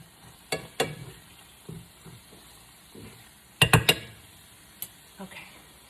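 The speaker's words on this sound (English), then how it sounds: "Let's stir this one more time" A utensil stirs a plant-based Just Egg scramble in a pan, with scattered scrapes and sharp clinks against the metal, a few louder knocks in a quick cluster, faint sizzling in the gaps, and a voice heard now and then.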